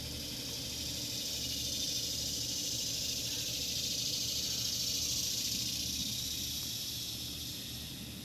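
Honey bees swarm around an opened Flow Hive during frame extraction, a steady, even hiss of buzzing wings that holds for the whole stretch without speech.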